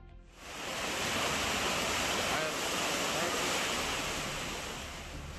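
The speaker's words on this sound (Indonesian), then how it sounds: "Air sungai seketika meluap saat hujan deras mengguyur kota Bandung." Swollen river water overflows during heavy rain in Bandung, making a loud, steady broadband rush that fills the whole stretch without a break.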